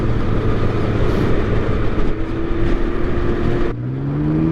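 A 2023 Can-Am Ryker three-wheeled motorcycle with automatic transmission pulls away, its engine droning steadily and rising in pitch as it speeds up, heard up close from the rider's position.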